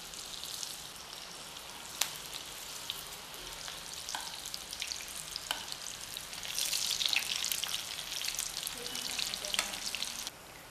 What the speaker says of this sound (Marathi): ह्याप्रमाणे कटलेट दोन्ही साईडने आपल्याला शालो फ्राय करून घ्यायचे आहेत